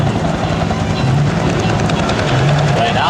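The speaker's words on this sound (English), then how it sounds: "the Huey, in a hover and a skid landing" A Huey helicopter hovers and makes a skid landing during an air show's Vietnam air rescue reenactment, its steady rotor chop and engine roar loud and continuous, with a voice talking over it.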